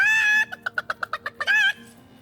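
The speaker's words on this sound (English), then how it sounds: "Why did you let my chicken escape?" A chicken in the video game Divinity: Original Sin lets out a loud squawk, then a quick run of about nine sharp, evenly spaced clucks, and ends with another drawn-out squawk, close and clear with no voices.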